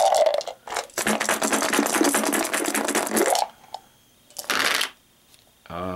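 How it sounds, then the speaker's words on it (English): Dice clatter in a long, loud rattle during a Dungeon Roll board game, then fall quiet, followed by a second, shorter burst of rattling and a faint click at the end. "We're still only rolling the dice that we have."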